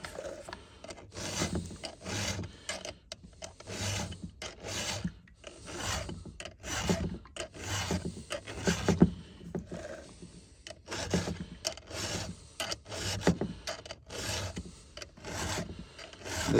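A hand file rasps across the teeth of a Husqvarna 372 XPG chainsaw chain, close and clear, in repeated rhythmic strokes with brief pauses between passes and no talking.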